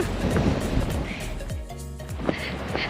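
Strong wind buffets a microphone outdoors on a hiking trail in Hawaii, a steady broadband roar with gusty swells and low rumbling, loud and continuous throughout.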